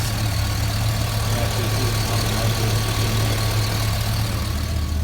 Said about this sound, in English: like valve train noise, so you might hear some of that